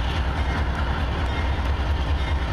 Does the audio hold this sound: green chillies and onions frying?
no